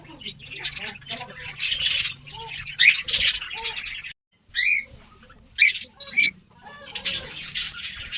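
Java sparrows in a home cage give repeated short chirps and squeaky calls in bursts, close and clear, with brief pauses between, and a faint low hum underneath.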